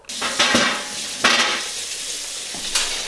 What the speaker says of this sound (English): We've got the salmon cooking.